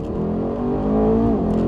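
A tuned Mercedes E63 accelerates hard from a race start, its engine note holding a loud, steady roar that climbs in pitch over a brief burst, heard from close by.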